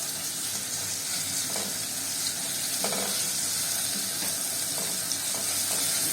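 A spoonful of garlic frying in oil, sizzling with a steady bright hiss and faint scattered pops and stirring scrapes, close and continuous without talk.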